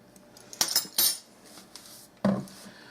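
A spoon knocks and scrapes in a bowl as lemon juice is stirred into a sifted cake batter, with several sharp metallic clinks at the start and another later, all close by and with nobody talking.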